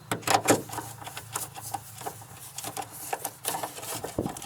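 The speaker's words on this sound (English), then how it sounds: "just undoing that plastic retaining nut there" A 10mm socket turning a plastic retaining nut inside a BMW Z3 cabin, with quiet intermittent ratcheting clicks and plastic scrapes close by, faint overall.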